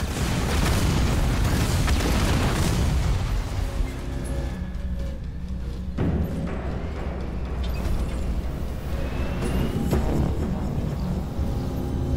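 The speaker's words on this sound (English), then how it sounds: "These bombs have destroyed one of our vehicles, boss." Air-unit bombs explode in the Halo Wars 2 strategy game, a dense, continuous rumble of blasts and heavy booms that goes on loud throughout with a battle din underneath.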